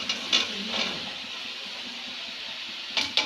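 Chopped ridge gourd and potato drop into a hot pan and set off a steady, loud hiss of sizzling, with a few sharper crackles near the start and end.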